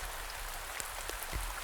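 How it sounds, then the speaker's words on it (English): Rain falls steadily on a rainy night, a soft continuous patter with a few sharper drops, fairly faint and with no voices. "the rain had become a symphony of nature, a harmonious blend of percussion and melody"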